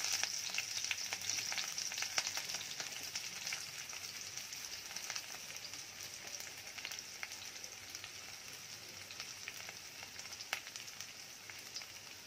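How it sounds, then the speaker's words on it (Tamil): Ivy gourd sautés with curry leaves in a pan for a Tamil poriyal, a steady close sizzling and crackling of frying with occasional stirring clicks. "இதை எல்லாத்தையும் நல்லா வதக்கிக்கோங்க."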